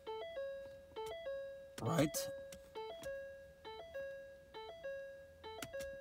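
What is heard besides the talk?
car door open warning chime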